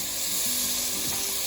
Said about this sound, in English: now I'm gonna add my washed rice